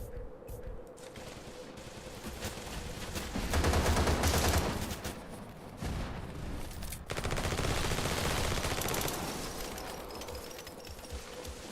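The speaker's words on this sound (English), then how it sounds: "who the fuck is shooting?" Gunfire in the video game AMC Squad, sustained automatic fire in long rattling bursts with louder surges midway and later, continuous and fairly loud with no pauses.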